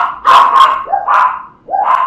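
Several dogs barking outdoors, three loud close yaps in quick succession with a whiny edge, each bark rising and falling, heard alone with no voices.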